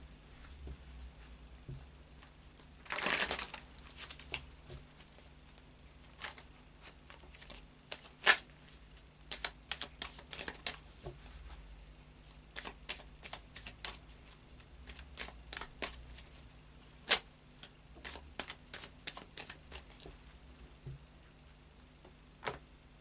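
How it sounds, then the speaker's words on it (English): Tarot cards are drawn and laid on a table in soft, quiet clicks and taps scattered across a long stretch, with one brief shuffling rush near the start. "Could we clarify all of the cards on the table, please, for Gemini?"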